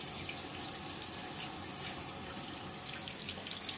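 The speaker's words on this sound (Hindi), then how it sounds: "बेहतरीन गर्म पानी आ रहा है दोस्तों" Hot water from a tap fed by a gas geyser runs in a steady, close splashing stream with small drips and clinks, and no one talks.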